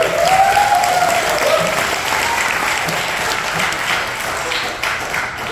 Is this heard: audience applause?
yes